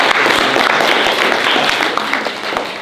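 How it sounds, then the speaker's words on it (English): Audience applause at a lecture, a dense steady wash of many hands clapping close by, holding at full loudness for the whole stretch with no talk over it. "Let's give a round of applause."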